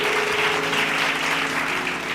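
An audience at a Bible study gathering claps hands together, a steady continuous burst of applause that fills the room evenly for about two seconds.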